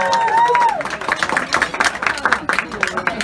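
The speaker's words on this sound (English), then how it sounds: "how about another round of applause for the groom, Ken Mayari" A round of applause for the groom at a wedding reception, scattered clapping with crowd murmur and a voice over the top, moderately loud in a busy room.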